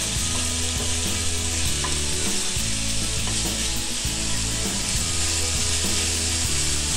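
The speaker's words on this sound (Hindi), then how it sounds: "इसको अच्छे तरीके से इसके साथ फ्राई कर लें ताकि इसका कलर चेंज हो जाए।" Chicken pieces for a cheese paratha fry in a pan with a loud, dense, continuous sizzle. Repeated scraping strokes of stirring sound under it.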